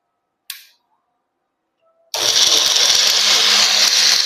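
A mixer grinder jar whirs loudly at full speed blending juice from milk, starting abruptly after a brief click and holding a steady, dense roar to the end.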